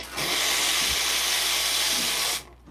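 An espresso machine's steam wand blasts a loud, steady hiss that starts abruptly, holds for about two seconds, then cuts off sharply, with no voices over it.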